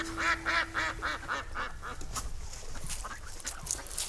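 A duck quacks in a quick series of nasal calls up close, then the calls fade into softer rustling and background noise.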